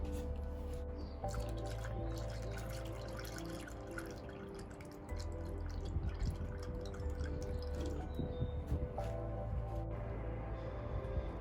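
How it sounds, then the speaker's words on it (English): Coolant pours steadily into a car's coolant reservoir on an Alfa Romeo Giulietta, a continuous gurgling trickle with small drips and splashes, fairly close and quiet. "I'm just going to top this up and keeping an eye on the levels as I pour it in."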